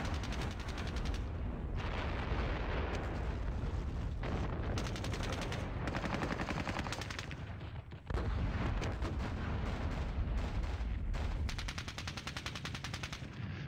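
An artillery fire mission in the wargame Squad Battles, Red Victory at Ponyri, rolls on as a loud, dense barrage of booming shots and rapid gunfire, almost continuous with only brief dips, and no talking.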